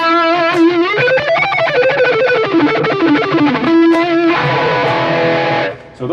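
An electric guitar runs through a Boss OD-200 pedal on its stack drive distortion setting, playing a loud, saturated lead line with bends and sustained notes, then chords ringing out alone.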